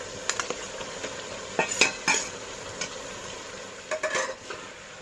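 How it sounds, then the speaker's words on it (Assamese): Cumin, panch phoron and crushed black pepper frying in a pan with onions, a low sizzle under sharp metallic clinks and scrapes of a spoon stirring against the pan in scattered bursts. "গুটিখিনি দি মেলি মই ভাজি আছোঁ"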